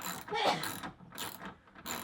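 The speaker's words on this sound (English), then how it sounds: "I'm using a 12mm socket wrench to get this off." Rapid clicking ratchet of a 12mm socket wrench in short bursts during an oil change on a 2015 Subaru WRX STI, close by, with brief pauses between strokes.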